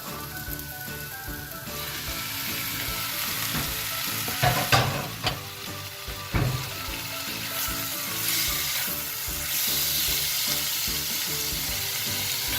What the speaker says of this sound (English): Now I will fry the beef as well, so that all the masalas mix really nice